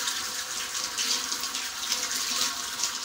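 Green vegetables being washed under a running tap, a steady broadband rush of water splashing into a sink that continues without a break for the whole stretch, close and fairly loud with no talk over it.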